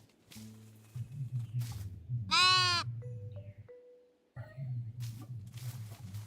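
Sheep in the cozy building game Tiny Glade let out a clear, wavering bleat over a soft low ambient hum, with a few faint chimes and small tonal blips around it.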